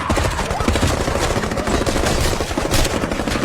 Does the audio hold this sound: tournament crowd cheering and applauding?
no